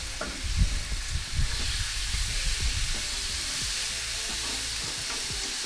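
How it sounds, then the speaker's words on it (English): Marinated calamari sizzles on a hot barbecue grill, a steady loud frying hiss with soft clacks and shuffles as pieces are moved around, settling into an even sizzle. "And now we'll give it that calamari. So straight on the grill."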